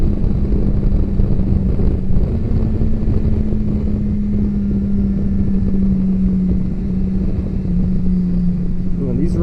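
A BMW S1000XR motorcycle ridden over bumpy, potholed roads, its steady engine drone holding a tonal hum throughout, mixed with constant wind rush against the microphone.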